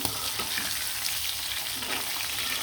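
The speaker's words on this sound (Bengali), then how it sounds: "ইলিশ মাছগুলা কিন্তু খুব সুন্দরভাবে লাল লাল করে ভাজা ভাজা করে ফেললাম" Hot oil sizzles and crackles steadily as hilsa fish fries, a close, continuous frying hiss with no voices.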